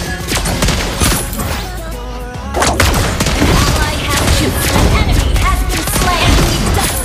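Lesley's rapid gunfire in the Mobile Legends mobile game rattles out in dense, loud volleys with a short lull, layered over game effects and music.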